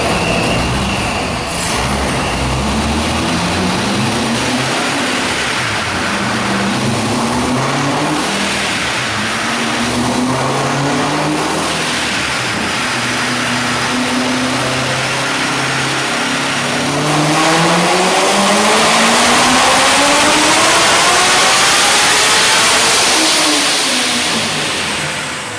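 A boosted 2014 Corvette C7 Stingray with an upgraded camshaft and pistons revs hard, engine pitch sweeping up repeatedly through the high RPMs as it runs through gears, loud and close with no speech.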